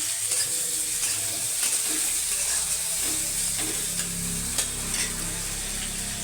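Chopped onions fry in oil with whole garam masala for a steamer-style chicken curry, giving a steady close sizzle broken by a few light stirring scrapes, with no talking.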